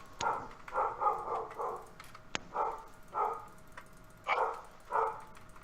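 A dog barks repeatedly in the background of an online tabletop Spelljammer roleplaying session, giving a string of short, fairly loud woofs and yips in an uneven rhythm, with one sharp click among them.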